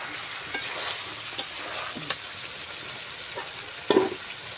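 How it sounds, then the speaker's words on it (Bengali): Country chicken being braised and stirred in a pan makes a continuous soft sizzle, broken by a few sharp clinks of a spoon against the metal and a louder scrape near the end. "আমি আরো মাংস কষাবো।"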